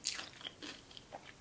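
A few quiet, crisp crunches from biting into crispy Korean fried chicken, brief and close, with sharp crackles near the start and end and no speech.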